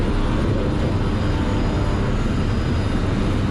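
In a video game, an aircraft engine roars during takeoff as a loud, dense, unbroken rumble and hiss that holds steady throughout, with no voices over it.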